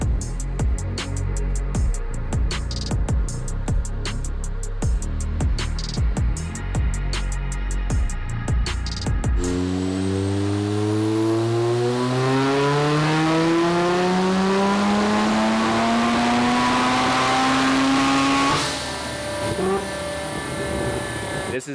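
A Corvette fitted with a 20B-style rotary engine runs on a dyno: a rough, buzzy idle with rapid clatter, then a loud, close, rising rev that climbs steadily for several seconds before cutting off abruptly.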